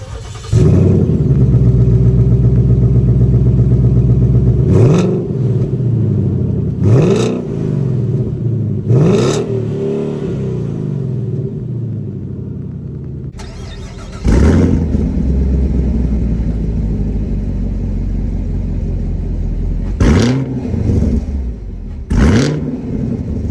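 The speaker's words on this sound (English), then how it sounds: "that was of course the sounds of these two V8 American sports cars" The V8 engines of a 2021 Chevrolet Camaro LT1 and a Ford Mustang GT crank and roar to life, then rev sharply several times, deep rumbling idle between loud throttle blips, very close.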